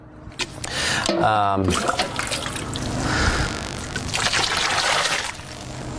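Water pours steadily into a brewing mash container, about a gallon and a half, a continuous splashing trickle that fills the whole stretch with a few brief knocks near the start.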